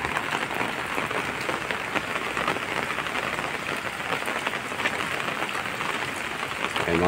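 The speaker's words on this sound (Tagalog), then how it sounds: "malakas ng ulan mga lods" Heavy rain falling at a cemetery in Florida Blanca, Pampanga, a dense steady patter and hiss of drops on surfaces, continuous and fairly loud, with no one talking.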